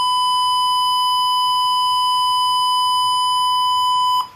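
An automatic water pump controller alarm beeps steadily as the tank reaches full, a loud continuous electronic tone that cuts off abruptly near the end.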